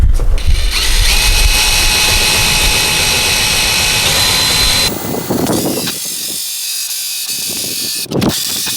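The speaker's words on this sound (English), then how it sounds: "All right, let's drill it. Nice and easy," A power drill whines loudly and steadily as it bores through an aluminum soffit, then cuts out, followed by quieter handling sounds and a brief final burst; no voices.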